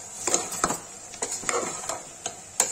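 A spoon scrapes and taps a pan while red chili and turmeric are stirred into oil for a cashew, paneer and peas curry, a series of light irregular clinks over a faint sizzle.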